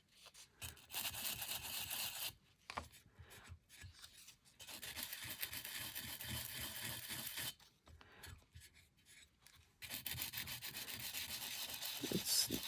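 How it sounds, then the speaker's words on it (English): An emery board rubs back and forth over a small thrifted item, soft close scratchy strokes in bursts separated by brief pauses, with no speech. "What happens if I take a little emery board to it?"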